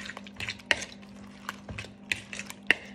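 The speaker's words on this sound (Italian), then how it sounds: "Le patatine sono fredde, quindi le aggiungiamo al composto di uova, mescoliamo" Cold potato chips being stirred into a beaten egg mixture for a quick potato and mozzarella frittata, giving repeated wet scraping and clinking strokes against the bowl in an uneven rhythm, close and moderately loud, with no talking.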